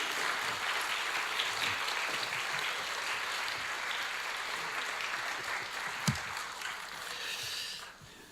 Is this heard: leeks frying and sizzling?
no